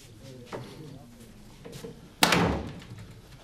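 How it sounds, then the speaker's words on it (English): A door is shut with a single firm thud partway through, following quieter room noise and a faint earlier knock in a domestic drama scene. "Shut the door."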